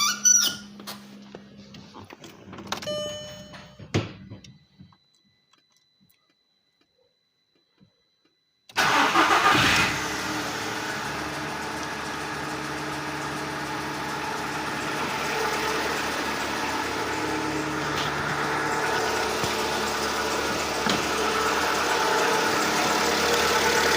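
Close up, the engine of a Seat Ibiza 6L misfiring on three cylinders cranks and fires after a few clicks and a short silence, then settles into a steady, slightly uneven idle.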